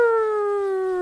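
A person vocally imitates a video game defeat noise in a siren-like way: one sustained, steady, loud wailing tone with slowly falling pitch, lasting about a second, alone with no other sounds.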